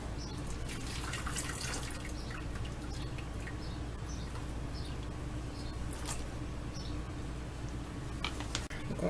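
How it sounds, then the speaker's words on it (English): Blanched collard greens go into a bowl of cold water in a kitchen, giving soft splashes, drips and wet trickling with a few sharper clicks near the end, continuous and close, with no speech. "I have a little bit of cold water here that I'm going to put them in."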